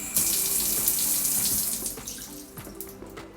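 Water gushes steadily from a shower faucet that has just been repaired, a close, loud hiss that tapers as the flow is shut off, leaving faint drips and small clicks.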